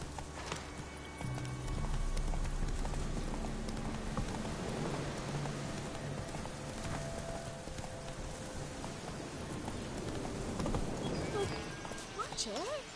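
Roach the horse gallops in Witcher 3, a steady run of hoofbeats under a rain-like hiss and other game sounds, continuing for the whole stretch.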